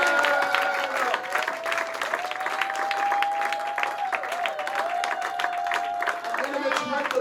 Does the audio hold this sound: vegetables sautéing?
no